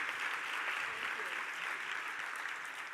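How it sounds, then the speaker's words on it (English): Audience applause for Susan Bennett at a Women in Business chamber event, a steady dense clapping wash held for about three seconds at even loudness with no speech. "Please, let's have another round of applause for Susan Bennett."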